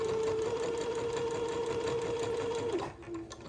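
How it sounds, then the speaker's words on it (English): A sewing machine stitches along the bottom hem of a dress in one steady, close, continuous whir for nearly three seconds, then stops abruptly and a quieter hum remains. "this is going to take me a little while to sew because I've got about 2 yards of the bottom of the dress to do"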